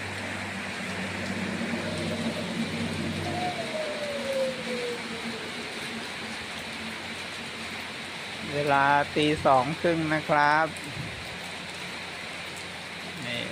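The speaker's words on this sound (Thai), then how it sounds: "นี่พายุฝนตกหนักตกแบบนี้2 วันแล้วนะครับ" Heavy rain storm pours down at night in Nong Ruea district, Khon Kaen, a steady dense hiss throughout, with someone speaking briefly near the end.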